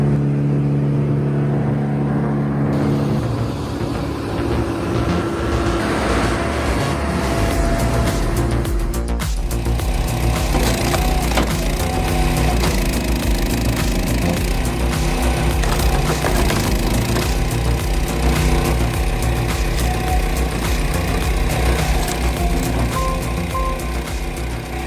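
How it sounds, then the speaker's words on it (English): A Bandit 250XP machine with a 200 HP engine chewing through a 12-inch log, a loud continuous engine roar with grinding and crunching over it, close and steady from start to finish with no voices. "The Bandit 250XP with its 200 HP engine just chewed through a 12-inch thick log like it was a breadstick"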